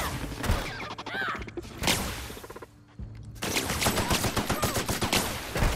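Gunfire rattles in the video game The Outer Worlds, with rapid repeated shots, a brief lull, then a dense burst of automatic fire amid game sounds.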